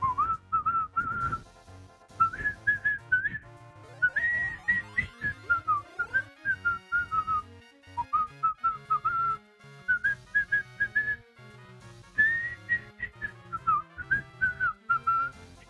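A person whistles a wandering, chirpy melody in short repeated phrases, imitating someone else's whistling; the tune is close, clear and solo, with no speech.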